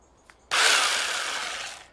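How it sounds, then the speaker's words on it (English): A small handheld mini chainsaw cuts into garden bushes, a faint tap and then a sudden loud, steady buzzing whine for over a second that fades as the cut finishes. "I've got a little mini chainsaw."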